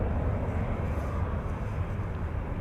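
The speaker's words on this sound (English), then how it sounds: "the sound of the airplanes once they have passed us by is still clearly audible for you guys" Jet airliners departing Schiphol Airport give a steady, far-off roar with a deep low rumble that holds evenly throughout, with no talking.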